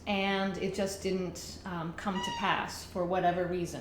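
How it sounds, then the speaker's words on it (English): A pet cat meows several times in short rising calls, close by and mixed in with a person's steady speech. "That's my cat, who's going to be annoying right now"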